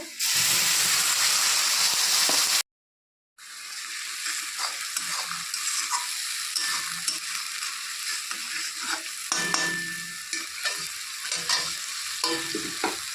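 A loud, steady sizzle as a spice mixture fries with onions in a hot pan for fish curry, broken by a brief silence, then continued crackling with occasional stirring scrapes.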